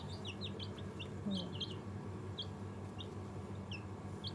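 Faint chirps and soft clucks from a pet chick repeat sporadically over a steady low hum, quiet and somewhat distant.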